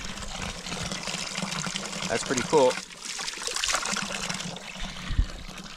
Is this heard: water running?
yes